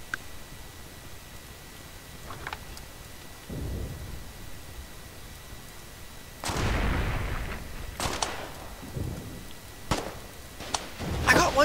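Gunfire in the war game Foxhole: a handful of scattered, distant booming shots spaced several seconds apart over a quiet background, growing louder and more frequent toward the end.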